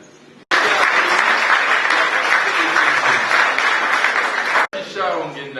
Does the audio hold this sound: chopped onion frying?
no